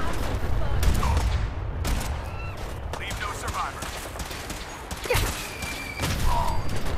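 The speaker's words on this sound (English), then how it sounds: "Oh, we are shooting them," Fallout 4 gunfire erupts in rapid, repeated bursts of shots throughout, loud and close against a constant game background, with a person occasionally talking over the fusillade.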